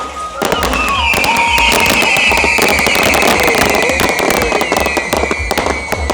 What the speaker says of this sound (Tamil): அடுத்த இஞ்சா வான வடிக்க ஆரம்பிக்க போகுது பாருங்க